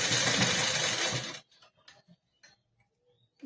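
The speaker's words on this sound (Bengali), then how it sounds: "দেখো, কথা বলতে বলতে সেলাই হয়ে গেল।" A sewing machine stitches fabric in a loud, steady, close whirring run of about a second and a half, then stops, leaving only faint scattered clicks and handling noises.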